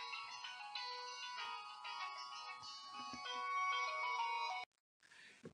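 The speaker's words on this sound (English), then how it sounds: "I didn't put my phone on silent mode, right?" A mobile phone ringtone plays a bright melodic tune during a primary maths lesson for parents. It rings steadily and fairly softly for several seconds, cuts off abruptly, then gives a brief final burst.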